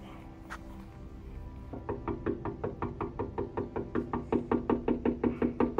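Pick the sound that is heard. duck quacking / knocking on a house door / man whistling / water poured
knocking on a house door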